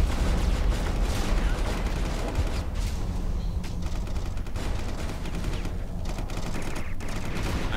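Dense, continuous gunfire from the space combat game Starsector, with overlapping rapid shots and booms forming a loud, unbroken barrage throughout.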